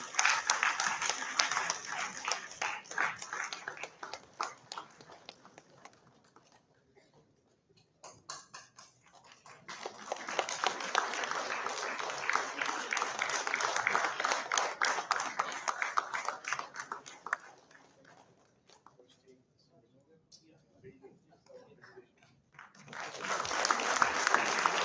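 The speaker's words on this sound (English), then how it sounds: "I would request the applause should continue." Audience applause at an IMI Bhubaneswar event, sustained in bursts that fade to near silence and then swell again, with a few voices mixed into the clapping.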